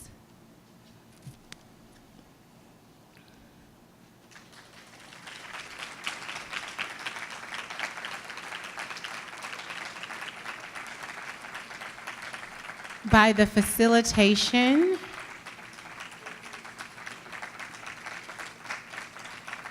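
An outdoor crowd at a community garden groundbreaking applauds a group of young children, with clapping swelling in after a quiet start and holding steady, a brief voice rising above it partway through.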